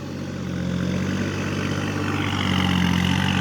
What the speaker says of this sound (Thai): เราจะพาไปขี่รถไถแล้วครับนี่